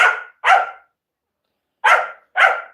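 A dog barks four times, in two quick pairs separated by a pause, loud and close with silence around the barks.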